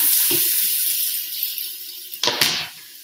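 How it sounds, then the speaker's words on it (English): Onions sauté in an Instant Pot with a loud, steady sizzle, broken by two sharp bursts of stirring near the end. "So we're going to saute the onions in the pot."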